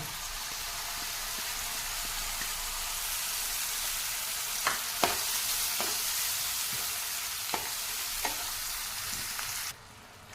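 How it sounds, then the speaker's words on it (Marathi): Soaked chana dal fries with spices in a pan, a steady close sizzle with a few sharp clinks of a spoon stirring, no voices, stopping abruptly near the end. "आता याच्यामध्ये आपण घालणार आहोत ही भिजवलेली हरभऱ्याची डाळ"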